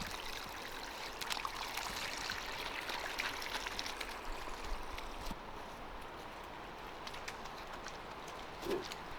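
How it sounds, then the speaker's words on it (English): A distant waterfall and running water on a soaked Tennessee hiking trail make a steady, broad rushing wash, fairly faint, with occasional small knocks and splashes. "but I can hear the first waterfall for sure."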